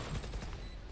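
Gunfire in a competitive video game match plays as a dense, continuous rumbling volley of shots, loud and unbroken across a single second.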